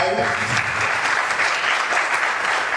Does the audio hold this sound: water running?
no